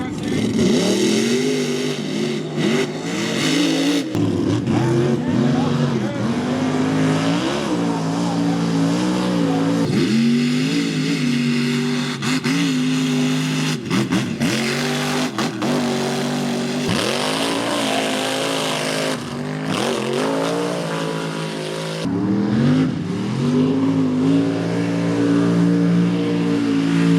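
Mega trucks race around a muddy track, their engines revving loudly and continuously with rising and falling pitch throughout, while a commentator's voice runs over the roar.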